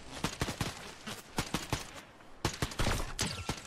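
Rapid gunfire in a video game, a fast series of sharp, loud shots in uneven bursts with a brief pause midway, close and alone without talk.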